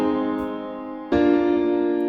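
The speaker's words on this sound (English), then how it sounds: "the same chord progression that is used in Titanium by David Guetta featuring Sia," Chord progression from Titanium by David Guetta featuring Sia, played on a smooth sustained synth pad: one held chord gently fading, then a clear change to a brighter, louder chord that rings on, with no voices.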